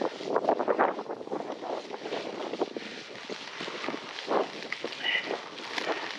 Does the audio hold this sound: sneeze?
no